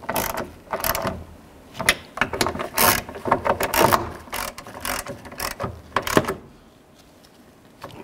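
A ratchet snugs down the mounting nuts of a side mirror on a 1999–2007 GMC Sierra pickup, with quick runs of close, sharp clicking in irregular bursts followed by a short quiet pause.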